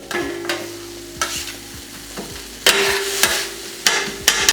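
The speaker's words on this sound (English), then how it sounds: "Let's get the peppers and onions incorporated." Peppers and onions sizzle steadily on a hot flat-top griddle while a spatula scrapes and stirs them in repeated loud, close strokes.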